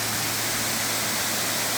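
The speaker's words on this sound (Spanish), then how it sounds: "Esta cascada tiene muy linda la forma de caída del agua, que va chocando con la misma pared." A waterfall pours down and strikes a rock wall, giving a continuous, dense rushing roar that is close and steady with no voices.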